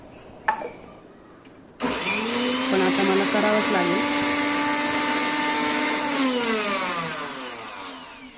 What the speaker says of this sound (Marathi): आता मिरची वाटून घेते